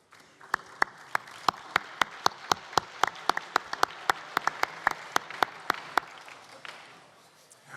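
An audience applauds both competing teams at the National Science Bowl 2025 high school finals, a steady patter of clapping with some sharper nearby claps that trails off toward the end.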